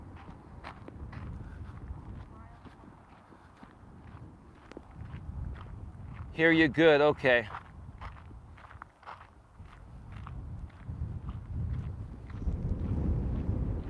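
Steady footsteps crunch along outdoors at an even walking pace, with wind buffeting the microphone, and a person speaks briefly partway through.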